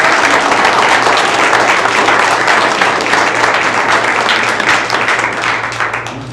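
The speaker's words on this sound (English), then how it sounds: "can we give one huge round of applause?" A school board meeting audience gives one big round of applause, dense steady clapping that fills the room for several seconds and fades slightly at the end.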